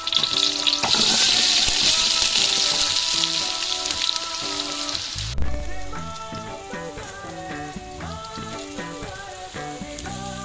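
Curry leaves and sliced onion frying in sunflower oil for Kollam biryani, a loud dense sizzle and crackle that fills the first half before settling into a softer sizzle under background music.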